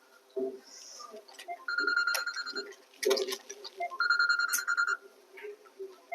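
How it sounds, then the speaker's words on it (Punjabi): A mobile phone rings with an incoming call indoors, repeated bursts of a bright electronic ringtone pattern with short gaps, fairly close, with some quiet voices in between. "ਲੈ ਮੰਮੀ ਦਾ ਫੋਨ ਆ ਗਿਆ"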